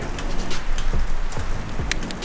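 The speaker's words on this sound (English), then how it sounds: "Rain has settled in" Steady rain patters on surfaces throughout at a deer hunting spot, a dense continuous hiss with occasional louder drips nearby and no voices.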